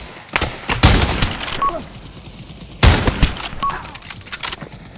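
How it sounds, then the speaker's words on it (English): Gunfire in a capture-the-flag video game, two loud bursts of rapid shots about two seconds apart, each trailing off into scattered echoing reports. "I'm being shot at by what I can only presume is my own teammate."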